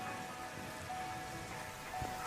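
Steady rain pattering on a surface in a thunderstorm, a dense, even hiss of drops with no voices, sounding close and constant throughout.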